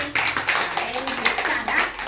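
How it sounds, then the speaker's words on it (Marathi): A group of children claps together for a girl named Lakshmi during a classroom money activity: dense, steady applause throughout, with voices mixed in. "लक्ष्मीसाठी जोरात टाळ्या वाजवा सगळ्यांनी"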